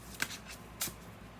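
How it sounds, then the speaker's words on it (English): Tarot cards are shuffled quietly up close, with two short riffling bursts of paper flicking separated by a pause. "I'm gonna keep shuffling."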